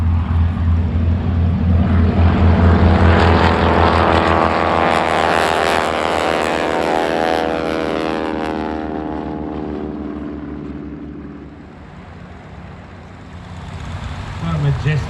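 Avro Anson vintage twin-engine aircraft, restored over ten years, runs its engines at a classic fighters airshow, a loud steady propeller drone that swells and eases, rising again at the end, with people talking over it.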